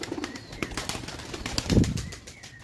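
Young pigeons being trained to fly flap their wings in several short bursts, faint and close, with one stronger flurry near the end.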